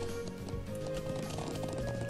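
A horse gallops in the video game Trails of Cold Steel, its quick clip-clop hoofbeats running steadily at moderate loudness against game background sound for a couple of seconds.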